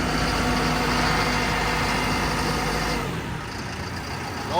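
A heavy idling engine runs steadily, then its loud low rumble drops and softens about three seconds in as the RPM is brought down, settling to a quieter hum.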